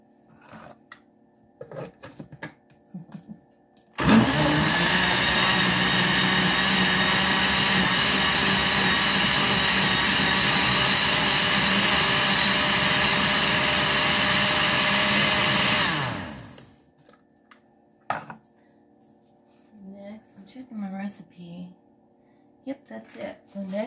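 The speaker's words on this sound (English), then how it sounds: "My powerful blender is not that powerful." A blender blending bananas roars steadily for about twelve seconds, loud and close, with a little talk before and after.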